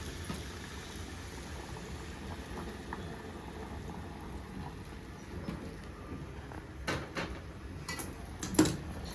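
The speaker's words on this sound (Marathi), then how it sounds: "बघा उकळी यायला लगेच सुरुवात झाली पण." A pot of chicken curry coming to a boil, bubbling steadily at close range, with soft popping and a few louder clinks near the end, no voices.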